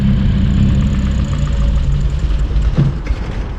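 A Rover P6 car engine with the choke engaged too early idles close by in a steady, low, throbbing hum, with a brief knock near the end and no talking.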